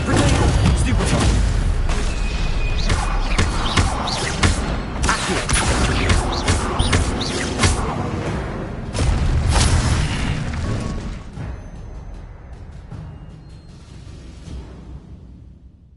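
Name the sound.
spell blasts and explosions in Hogwarts Legacy video game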